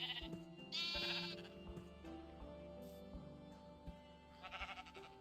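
Sheep in the video game Minecraft bleat in a few short, wavering calls, fairly near, over a soft tonal game music backdrop.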